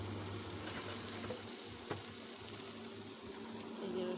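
Garlic tipped into onions already frying in oil, a steady broadband sizzle running throughout with one brief clatter near the middle, moderately close and with no voices.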